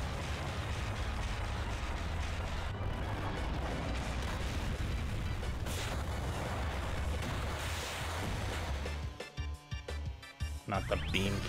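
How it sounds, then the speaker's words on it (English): Beam cannon attack in the video game Final Fantasy 8 Remastered: a sustained roaring blast of energy that ends in several heavy, booming bursts near the close, with no talking. "Not the beam cannon again."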